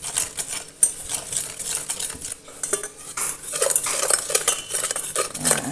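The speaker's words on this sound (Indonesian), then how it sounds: "kemudian saya aduk dulu sampai rata" A spoon stirs agar-agar powder with date-flavoured agar and other dry ingredients in a bowl for cassava pudding, scraping and clinking against the sides in quick, steady metallic rattles, close and fairly loud, with no talking.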